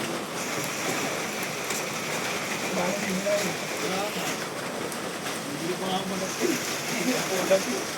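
Steady rain hisses on surfaces throughout in Kinabuhayan, Dolores, Quezon Province, a broad wash of patter with people talking faintly underneath.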